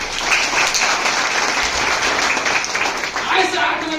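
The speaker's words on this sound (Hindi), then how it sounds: "जोरदार ताली बजाएं" An audience at a Highrich business seminar in Dumka gives loud, continuous applause, with a dense wash of clapping sustained for several seconds and voices faintly audible within it.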